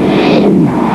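A rock album plays backwards as a loud, dense, continuous smear of reversed music with a swelling, washing texture for about a second.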